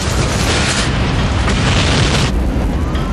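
A huge explosion at the BP oil refinery in Texas City, heard as a loud, sustained roar of blast and rumbling fire that fills the clip before easing slightly near the end.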